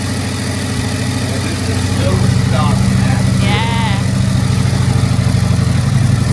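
Motorcycle with its exhaust opened up, untuned, idling with a steady low rumbling throb close by, while a person briefly speaks and makes excited sounds over the engine.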